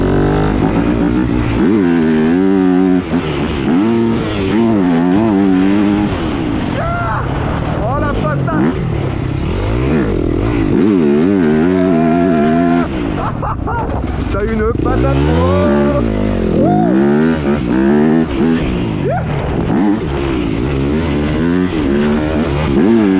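A Yamaha YZF 250 dirt bike's engine revs repeatedly while riding, loud and close, its pitch rising and falling through gear changes with wind buffeting and continuous talk over it.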